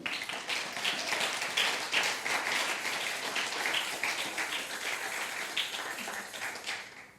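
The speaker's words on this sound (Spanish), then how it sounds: "Dele un fuerte aplauso al Señor." Church congregation applauding together during a sermon, a dense, steady wash of many hands clapping for about seven seconds with no voices on top.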